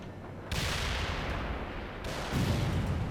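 Gunfire and grenade blasts in the war game World in Conflict, a dense continuous rumble of distant firing and explosions that swells suddenly and stays loud, with no speech.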